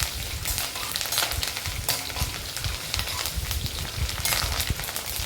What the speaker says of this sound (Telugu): ఒకసారి అంతా కలుపుకొని బాగా వేయించుకుందామండి